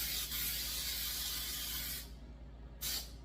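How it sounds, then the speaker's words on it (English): Cooking spray with flour built in hisses into a 9-inch cake pan in a long close burst, a pause, then a second short spray. "Make sure you get the sides with cooking spray that has the flour built into it already."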